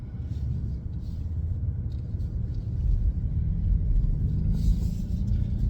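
A 2023 BMW XM's S68 4.4-liter twin-turbo hybrid V8 grumbles steadily at low speed while pulling away from a dealership, a deep, even, close rumble that swells slightly midway, with no voices.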